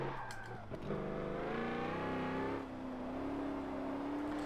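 An 800hp GMC Vandura van slides sideways in Forza 7, its engine roaring loud and close as revs rise and fall, with tyre scrub under the climbing whine.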